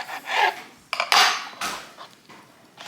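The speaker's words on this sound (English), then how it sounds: "We're just going to cut these in half, so we have 8 slices." A knife cuts snack food in half on a cutting board, giving a few close scraping and clattering strokes in uneven bursts, with no talking.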